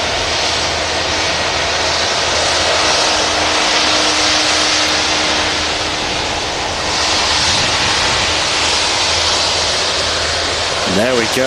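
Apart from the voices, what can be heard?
Jet2 Boeing 757 jet at Manchester Airport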